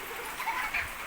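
Rain falling outdoors around a rural school in the Philippines, a soft steady hiss of drops with a few slightly louder patters near the middle, fairly quiet and uninterrupted.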